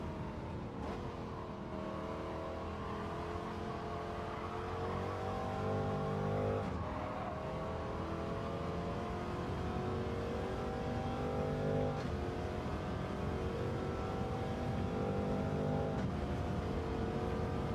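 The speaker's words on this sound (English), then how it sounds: "Yeah, this car shifts like a demon. There's like no lag at all on it." A race car in Gran Turismo 7 revs hard through a steady stream of engine noise, its pitch climbing and then dropping with each quick gear shift, repeated several times over a sustained run with no talking.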